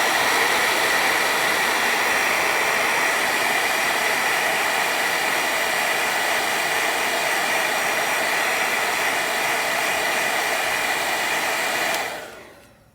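A hair dryer blows steadily over wet watercolor paint on a peppermint candy cane martini painting, a loud continuous whooshing roar that holds for about twelve seconds before abruptly cutting off.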